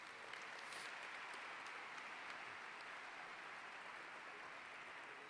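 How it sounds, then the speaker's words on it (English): Audience applause for Susan at a spring evening scholarship fund gala, a steady, faint wash of many hands clapping that holds evenly throughout. "Round of applause for Susan, please."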